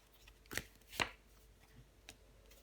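Two crisp slaps of a tarot card being laid down onto another card during a reading, sharp and close, about half a second apart, followed by faint handling rustle and no talking.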